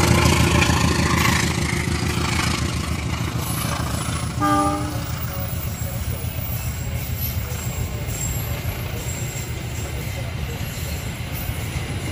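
A train rumbling past nearby, beside a roadside food stall along the tracks, loud and continuous, with rattling wagons and a brief horn-like tone partway through.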